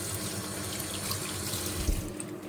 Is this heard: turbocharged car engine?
no